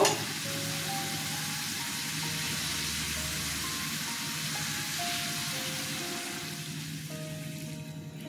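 Water goes into a pan of frying papaya curry with potato and peanuts, giving a loud continuous sizzle and bubbling hiss that stays close and steady, with a faint hum underneath.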